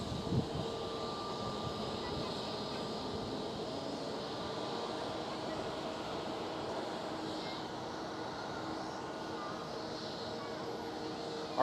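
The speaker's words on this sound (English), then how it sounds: "And there goes another Transavia A321." A Transavia Airbus A321 airliner passing at Amsterdam Schiphol airport, heard as a steady, broad engine roar held at an even level throughout, with faint talk underneath.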